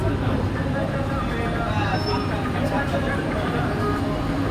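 Jagannath Express rolls out of Kharagpur station with a steady low rumble of rail noise, heard from inside the train, while someone talks over it.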